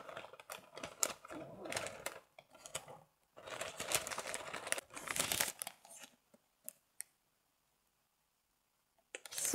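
Gift package from a subscription box being opened: close, busy crinkling, tearing and rustling of paper and plastic in quick bursts, then stopping into near silence.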